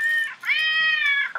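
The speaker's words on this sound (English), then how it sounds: "Maybe it was just the cat." A cat in an animated Simpsons cartoon meows close up. A short call leads into one long, drawn-out meow, and the start of another follows right after. No speech.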